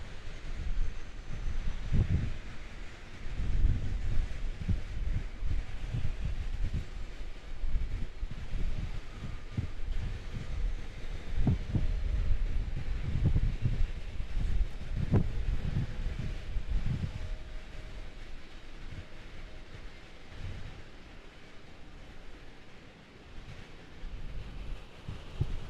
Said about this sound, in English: Oh, the wind is picked up.